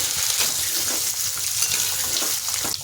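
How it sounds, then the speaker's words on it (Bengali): Jackfruit stalks fry in hot mustard oil in a kadai, giving a continuous hissing sizzle with a watery, splattering texture, close and fairly loud throughout. "তেলটা গরম হলে প্রথমে ডাঁটাগুলো ভেজে নিচ্ছি।"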